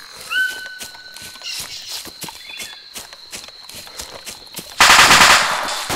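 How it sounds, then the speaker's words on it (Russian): Machine gun fire in the video game ArmA 2, a string of sharp rapid bursts and single shots crackling at mid distance, ending in a loud, dense close-range volley. "По мне кто-то стрелял. Рядом."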